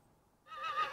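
Horse in the video game Rise of the Ronin lets out a single whinny, a bright, wavering, close neigh that bursts in after a brief near-silence and carries to the end.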